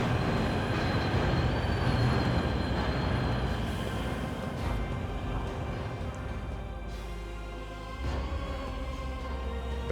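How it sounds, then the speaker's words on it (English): Steam train in Warhammer 40k Rogue Trader, a loud continuous rumble and rattling of rail cars with a steady low growl, metallic squeals and a couple of hissing bursts, close and alone without voices. "The platform shakes with the boiler's mighty vibrations as the iron beast beneath your feet growls and snorts ferociously."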